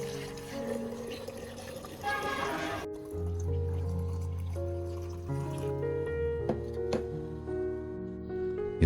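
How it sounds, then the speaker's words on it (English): Clean water, about a liter, poured into a clean container, a steady filling trickle with rising pitch heard close and fairly quiet, with some background noise and no talking. "I will pour in about 1000 milliliters or 1 liter of clean water."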